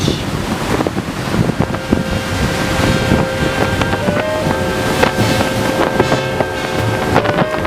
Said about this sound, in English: It's a blustery day.